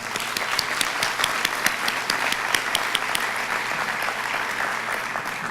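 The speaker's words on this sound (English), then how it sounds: "Let's give both of them a round of applause." Applause at a Motor City Match press conference in Alger, many hands clapping in a dense, continuous patter with crisp individual claps standing out, fairly close and without speech over it.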